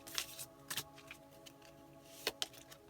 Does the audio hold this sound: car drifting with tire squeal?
no